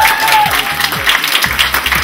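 An audience at a beauty pageant applauds the contestants, loud continuous clapping with crowd noise and music underneath.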